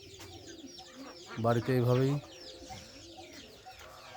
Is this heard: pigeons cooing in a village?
yes